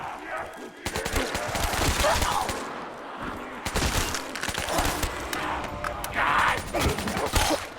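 Rapid gunfire aimed at zombies in Black Ops 3 Zombies on the Shi No Numa map, dense bursts of shots continuing through most of the stretch with short pauses, loud and close.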